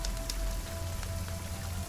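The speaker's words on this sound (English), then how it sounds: "You're woken up by drops of rain and then suddenly pouring through the canopy of the dark forest." Rain falls through the canopy of a dark forest as a faint, steady, even patter with no voices.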